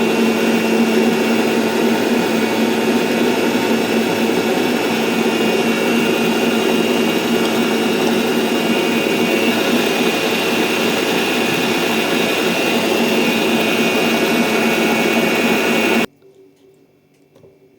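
An electric mixer whips egg yolks with added oil in a bowl, a loud, steady whirring drone held for about sixteen seconds before cutting off abruptly into quiet.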